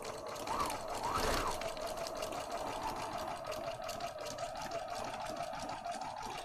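Sewing machine running a zigzag stitch, a steady fast mechanical whirring chatter, close and continuous, with no talk over it.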